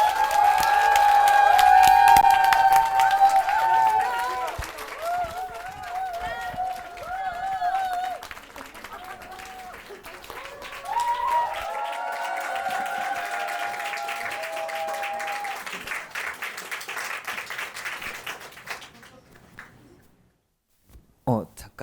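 An audience at a Korean poetry showcase applauds and cheers for about twenty seconds, with clapping strongest at first, a few whoops over it, then fading to scattered claps before silence.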